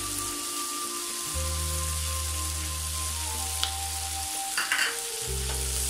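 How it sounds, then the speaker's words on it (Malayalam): Egg chilli masala frying in a pan, a steady close sizzle under a constant low hum, with a few scraping stirs and clinks of a spoon against the pan partway through. "ഒന്ന് നന്നായിട്ട് ഇളക്കി കൊടുക്കുക."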